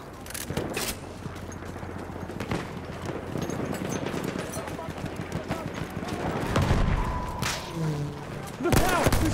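Machine gun fire crackles in a first-person shooter battle at Fao Fortress, rapid bursts and scattered shots blending with distant booms while voices call out over the fighting.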